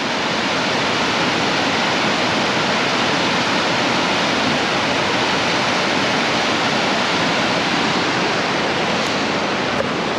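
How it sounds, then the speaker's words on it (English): Waterfall on the West Fork of Wolf Creek in the North Georgia mountains, a loud, unbroken roar of falling water that stays constant and close for the whole stretch. "Pretty sweet waterfall"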